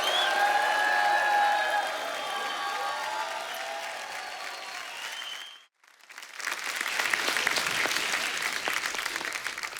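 A studio audience on a comedy talk show bursts into loud, sustained applause with a few cheers mixed in. It pauses briefly midway, then resumes with dense, crisp clapping.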